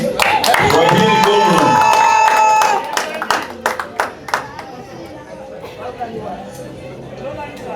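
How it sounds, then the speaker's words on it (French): Guests at a traditional wedding clap in a brief scattered round that thins out beneath loud chatter and a speaker's voice. "Applaudissez quand même, non?"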